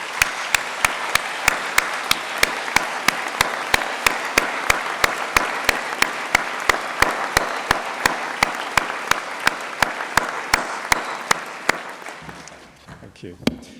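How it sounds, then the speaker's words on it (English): A large graduation ceremony audience in Cardiff applauds the tutors with a full, continuous wash of clapping, punctuated by regular sharp close claps near the microphone, then fading out toward the end. "So let's give them a huge round of applause."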